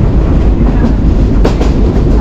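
A local train running between Santahar and Nasratpur, heard from inside a nearly empty carriage: a steady loud low rumble with rhythmic wheel clatter and a brief rattling burst partway through, no talking.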